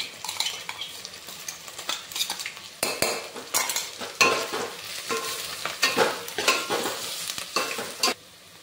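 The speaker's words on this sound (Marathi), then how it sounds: "अशा प्रकारे आपण अद्रक लसूण पेस्ट घालून घेतली आहे।" Onions and ginger garlic paste fry and get stirred in oil for chicken biryani, with a steady sizzle under repeated scraping and clinking from a spoon against the pan, close and fairly loud throughout and with no talking.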